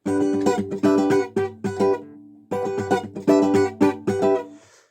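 A guitar strumming pattern for a song is played up close, with crisp rhythmic strokes and muted percussive hits in two phrases split by a brief pause.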